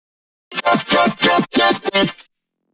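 A color bass growl shaped with Pitchmap: a run of loud, gritty, synthesized bass stabs, about six choppy bursts in quick rhythm, heard alone with no talking.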